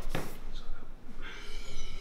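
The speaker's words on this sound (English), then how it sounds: "Oh, I was just clearing my throat." A brief, rough throat-clearing snort right at the start, followed by a low hiss and faint rustling.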